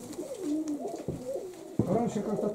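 Pigeons coo in a grain storage where sacks of wheat lie open, with several soft, rolling calls close by that rise and fall in overlapping bursts.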